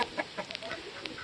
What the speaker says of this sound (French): le deuxième coq qui me reste.